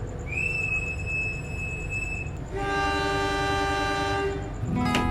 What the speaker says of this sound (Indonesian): kereta api Joglo Semarkerto diberangkatkan dari stasiun Sumber Lawang